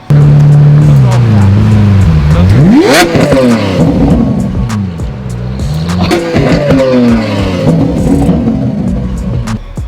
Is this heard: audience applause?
no